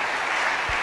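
A church congregation claps together in dense, steady applause, a continuous crackle of many hands filling a large room, alone without speech.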